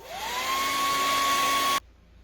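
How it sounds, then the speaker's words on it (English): A hair dryer drying an Easter craft project whirs steadily with a rising then constant whine, loud and close, before cutting off abruptly into silence. "Let me hit this with the dryer."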